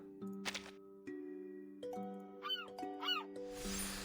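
A video game sound effect resembling a seagull call: two quick rising, squawking bird-like cries in a row over steady tonal game music with chime notes, fairly close and clear, no talking.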